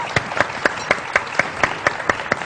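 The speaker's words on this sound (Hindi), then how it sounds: "वाह, तालियां होनी तालियां होनी चाहिए" Rhythmic clapping from a TV studio audience, about ten evenly spaced claps in quick succession, loud and close, like a small group applauding in unison.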